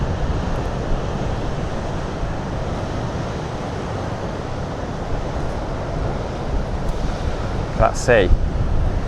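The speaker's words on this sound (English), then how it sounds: "That sea showing who's boss today, isn't it?" Rough sea surging against the rocky Cornish coast near the old Botallack and Levant mines, a steady loud roar of surf and wind buffeting the microphone, with a brief voice near the end.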